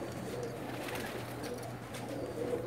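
Pigeons coo softly and repeatedly nearby, a low, throaty burbling that continues without a break over faint background noise.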